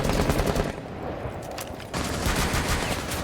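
Hip-fire gunshots ring out in a tactical shooter video game, a dense burst of rapid automatic fire, briefly thinning, then resuming loud and sustained.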